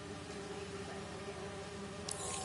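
Bees buzz in a steady, continuous drone at a lab scene in the Spider-Man 2 video game, an even insect hum at moderate level with no talking over it.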